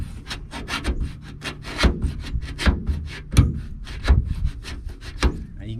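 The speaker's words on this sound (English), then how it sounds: "just get a little razor blade and scrape it" A razor blade scrapes peeling paint off a Chevy van body in quick, repeated strokes, each rasping sweep loud and close, roughly a dozen in rhythmic succession.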